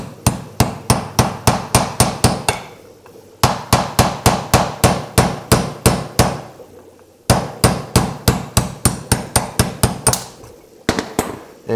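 A carpenter's hammer strikes a brass taper pin on a Sidney lathe in three rapid bursts of sharp metallic blows, about a dozen hits each, loud and close with short pauses between runs.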